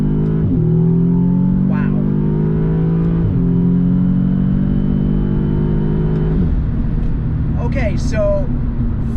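Audi S3 with a stage 2 tune accelerating hard from around 25 mph, the engine note climbing steadily through two quick gear changes, heard from inside the cabin with a man's brief exclamation over it.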